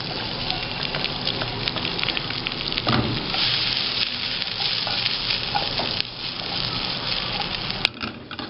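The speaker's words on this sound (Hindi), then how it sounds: "और इसके साथ हमें स्टर फ्राई करनी है ये कैप्सिकम" Capsicum and onion are stir-fried in a hot pan, giving a loud, continuous sizzle with scraping and stirring throughout.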